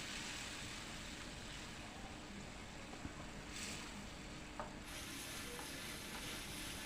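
Ground spices cooking with onion and a little water in a pan for a Bengali kakrol dish give a steady, close sizzle with faint stirring scrapes and a couple of small clicks throughout, with no voices.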